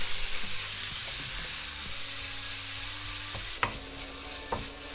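Canned tuna, still partly oily from the can, sizzles steadily in a pan with a bright continuous hiss. Scraping and stirring knocks sound now and then, with a sharper clack near the end.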